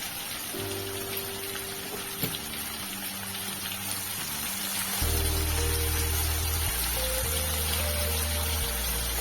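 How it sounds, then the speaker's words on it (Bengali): Marinated shrimp frying in oil over medium heat, a steady soft sizzle and crackle running throughout, with a low background hum growing somewhat louder in the second half. "কিছুক্ষণ সময় ধরে চিংড়ি মাছগুলো ভালো করে মিডিয়াম হিটে ভেজে নিচ্ছি"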